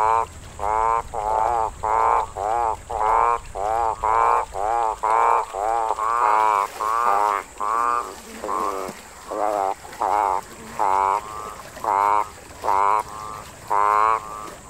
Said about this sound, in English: The males were definitely intent on getting a female, blowing up their vocal sacs to an enormous size.